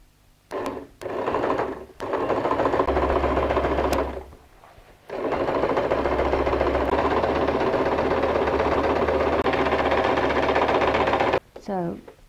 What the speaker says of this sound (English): I'm going to sew a straight stitch first, and then I probably would sew a zigzag stitch